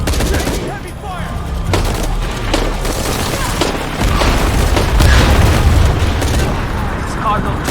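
Heavy gunfire and explosions in the video game Shadow of the Tomb Raider, a dense, loud barrage of booms and rapid shots that continues throughout, with voices shouting over the battle noise.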